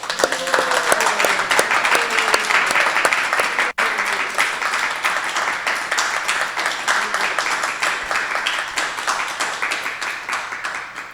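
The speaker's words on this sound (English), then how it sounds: "I think he deserved big round of applause." Sustained audience applause fills a temple hall during an ISKCON Silicon Valley gathering, dense steady clapping from many hands that holds loud for the whole stretch and only thins slightly near the end.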